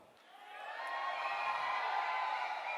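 A crowd at a Kangen Water presentation cheers for an incoming presenter, the roar swelling from a soft start into a loud, sustained wash of shouts and whoops.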